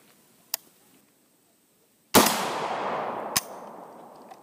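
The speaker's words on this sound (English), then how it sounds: "Alright, I'm gonna just shoot the steel." FN SCAR 16S rifle firing at a steel target: three sharp shots, the middle one loudest with a long ringing wash of steel and echo trailing off, the last shot cutting through the decay.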